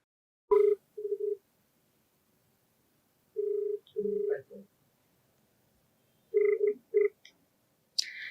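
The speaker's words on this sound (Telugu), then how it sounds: "సో లేట్ చేయకుండా మరి కాల్ చేసేస్తానండి" A phone call being placed: a short burst of dialing tones followed by repeated electronic ringback tone pulses with silent gaps, clear and close, ending with a brief higher chirp as the line connects.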